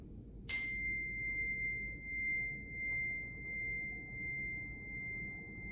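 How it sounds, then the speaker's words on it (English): A single hand bell strike rings out clearly during a yoga session, then its pure tone lingers and slowly fades over several seconds against a low background rumble. "you're going to hear me ring my bell"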